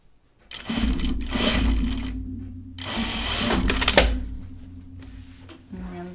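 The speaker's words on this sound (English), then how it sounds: "And then I'm going to sew it on my left side, I think." A sewing machine stitches a fabric hem in two long runs with a short pause between them, its motor whirring close and steady while a person talks over it.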